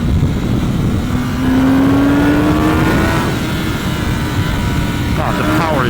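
A 2024 Kawasaki Ninja ZX-10R sportbike accelerating on a mountain road, its engine pulling smoothly with a steady rising whine under constant wind rush, with speech over it.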